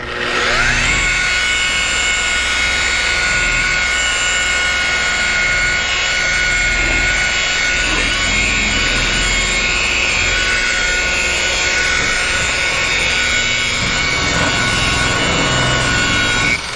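A power buffer runs continuously with a loud, steady high whine, polishing compound over a painted panel close by, holding an even drone without pause and no talking.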